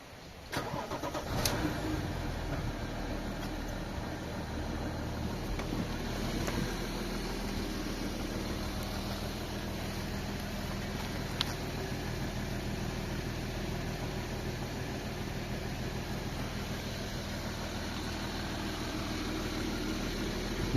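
An Audi A4 B7 3.0 TDI quattro diesel with manual gearbox cold-starts after sitting two days, a quick crank catching near the start, then settling into a steady, even idle heard alone for about twenty seconds.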